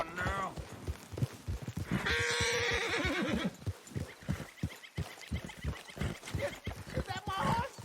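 A horse in the video game Red Dead Redemption 2 lets out a loud whinny among hoof clops and other sounds, and a person speaks around it.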